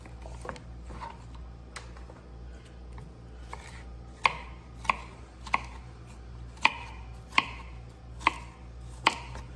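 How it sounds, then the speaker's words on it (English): Vegetables being cut with a knife into quick rough slices, a series of crisp, irregular chops on a board, sparse at first and then steadier and louder, over a low background hum. "you just do some little quick slices, quick rough slices, real elementary"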